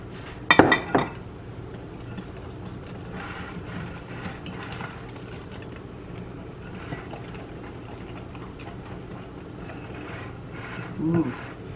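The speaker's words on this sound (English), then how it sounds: "A little bit at a time, I'm going to whisk in the flour mixture." Flour mixture whisked by hand into oatmeal raisin cookie dough in a bowl, a steady close scraping and stirring texture with a few sharper clicks near the start.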